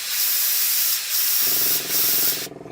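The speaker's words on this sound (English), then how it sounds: "If I just spray onto my towel." Two short bursts of spray cleaner from a bottle aimed onto a towel while airbrushing a Bandai 1/12 scale Boba Fett model, each a sharp hiss, followed by a steady airy hiss with a faint low hum.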